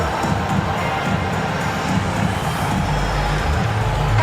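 Video game arena crowd cheers for the dance squad during an NBA 2K22 G League basketball game, a steady dense roar of cheering and applause that holds loud and unbroken throughout.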